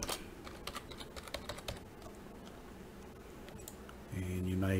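A computer keyboard clicks in a quick irregular run of keystrokes as a folder name is typed, light and close, with a brief mouse click and a sudden music swell at the end.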